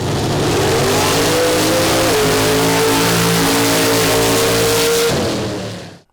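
A truck engine revs hard at a dirt drag race, a loud sustained roar that climbs in pitch and holds steady before cutting off abruptly and fading away, with no voices.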